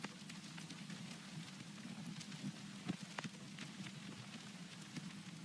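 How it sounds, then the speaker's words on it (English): Quiet vinyl crackle sample used in an electronic music track: continuous soft surface hiss with scattered pops and clicks at an even, low level, no voices. "Then we have this nice vinyl crackle sample."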